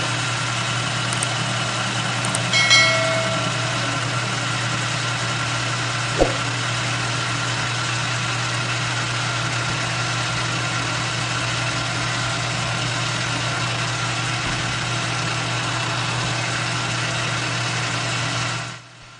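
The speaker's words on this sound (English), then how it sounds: "I want to get at least the majority of this end faced off and clean" Continuous loud hum of a lathe facing the end of a 1045 steel shaft with a DCMT insert, steady throughout with a faint click near the middle and no voices.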